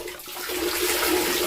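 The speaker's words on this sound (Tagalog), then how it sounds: "ilulublob mo na yan sa tubig" Steady rushing, splashing water as a jacket is dunked and rinsed in a basin, a continuous wash of sound with no clear breaks and no talk.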